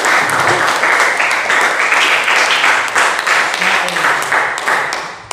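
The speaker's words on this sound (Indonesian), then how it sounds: "Kita berikan tepuk tangan untuk rekan kita Fiati." Classroom audience applause: brisk, fairly close clapping from a group that sustains evenly, then tapers slightly toward the end.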